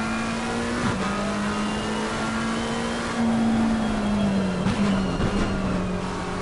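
A McLaren GT race car in Assetto Corsa Competizione, lapping Barcelona, drones at steady high revs with a few quick blips as it downshifts late into a corner, loud and continuous with no talk.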